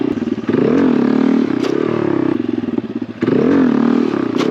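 Honda Grom motorcycle engine revving hard during wheelie attempts, loud and close, with two strong surges of throttle separated by a brief drop as the front comes down.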